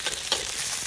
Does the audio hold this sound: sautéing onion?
yes